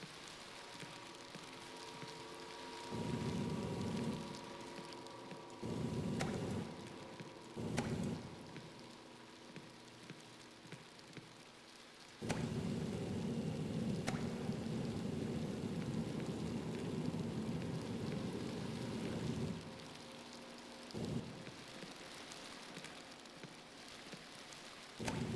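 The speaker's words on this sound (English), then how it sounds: "Oh, I thought I was hearing like a rain cloud. No, it's not. It's his torch." A blowtorch in the Painter Simulator game roars in bursts, a dense hissing rush like heavy rain that starts and stops repeatedly, with long stretches held on and quieter gaps between.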